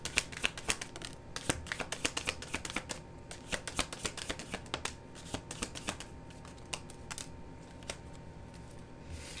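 Tarot cards being shuffled by hand close up, a rapid series of crisp, riffling flicks and taps in an uneven rhythm, fairly quiet and with no talking.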